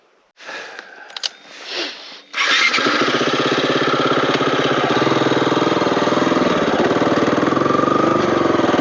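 A motorbike engine starts after a few faint handling noises, then runs steadily and loudly close by with a continuous rumbling drone as the rider pulls away on a Moab trail, with no talk over it.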